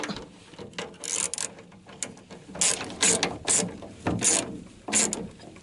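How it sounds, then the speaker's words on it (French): An 11 mm wrench tightens a bolt on a pedal assembly, making a series of close, sharp ratcheting clicks in uneven bursts, some quick and some longer. "Alors je récupère ma clé de 11 qui est coincée là. Hop, je serre celui-là."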